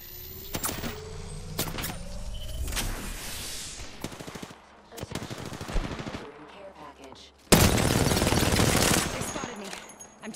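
Rapid bursts of gunfire aimed at the player during an Apex Legends match, with loud close volleys and a dense sustained stretch near the end, while a voice talks over the fighting.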